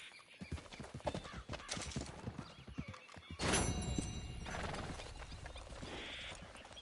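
A horse in the video game Red Dead Redemption 2, close clip-clopping hooves in an uneven rhythm followed by a loud drawn-out whinny, with no talk over it.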